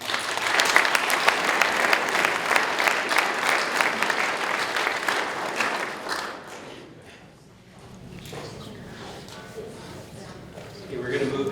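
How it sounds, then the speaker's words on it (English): Applause from a university audience after a talk: dense, loud clapping for about six seconds that fades out, followed by quieter room noise and a few scattered claps near the end. "Round of applause."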